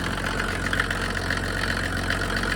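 A Mercedes OM603 diesel engine drives a new PN40 motor pump, idling in a steady, close, loud rumble with a fine regular knocking pulse and no talk.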